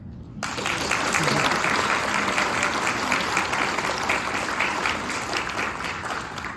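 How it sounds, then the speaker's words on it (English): An audience at a high school graduation breaking into applause, a sudden onset of dense, sustained clapping that holds at an even, loud level throughout. "I want to take a moment for a round of applause for Amber."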